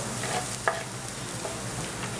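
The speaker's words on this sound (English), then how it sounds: "Fry the garlic with butter." Garlic frying in butter gives a steady, close sizzle that runs throughout, broken by one brief scrape of stirring.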